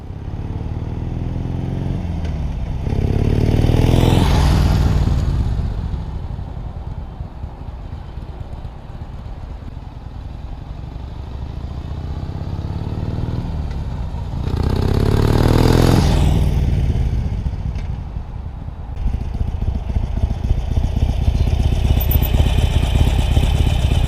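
A Harley Davidson Iron 883 fitted with Cobra 909 Speedster 2-into-2 exhaust rumbles at idle nearby, loud and steady, swelling into two throaty revs that rise and fall back to a lumpy idle.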